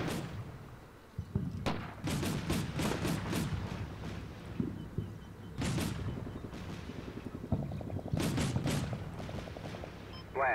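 Rapid bursts of gunfire and heavy booms from artillery and a 30mm BTR-82 cannon in a military video game, several volleys in quick succession, loud and close over a constant low rumble.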